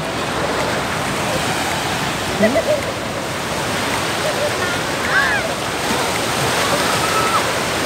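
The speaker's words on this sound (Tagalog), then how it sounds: "Ang tataas ang alon, oh" Surf at a beach with high waves keeps up a steady broadband wash of breaking water, with a few faint voices and squeaks over it.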